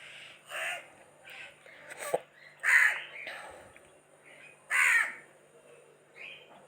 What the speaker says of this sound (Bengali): কাক ডাকছে এদিক আওয়াজ ওদিক আওয়াজ